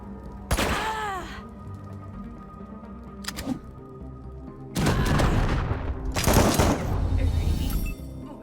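Sharp gunshots and longer rattling bursts of fire in Wasteland 3, separated by quieter gaps, with a groaning voice and other game sounds in between.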